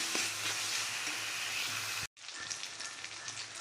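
Ginger garlic paste frying in a pan for a sardine fish curry, a dense steady sizzle with light stirring scrapes, briefly cut to silence midway before the crackling sizzle resumes.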